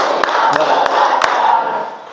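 A group of students in a classroom claps in counted sets, sharp distinct claps standing out over loud, sustained chanting voices.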